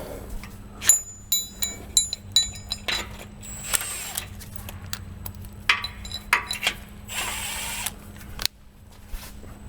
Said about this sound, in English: We are going to hold that sway bar up into place and start all 4 of the bolts before we tighten them down.